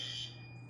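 Fire alarms sound after a generator fire with the power out, a steady high electronic tone holding throughout at moderate level, without speech.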